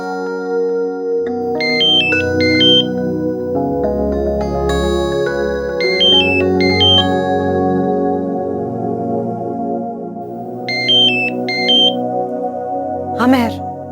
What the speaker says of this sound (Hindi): हॉस्पिटल से फोन